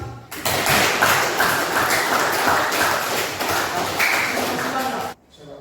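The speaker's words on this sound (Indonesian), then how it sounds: "tepuk tangan lagi" Classmates clap together in a classroom, a dense, steady burst of applause lasting about five seconds before cutting off abruptly, close and fairly loud.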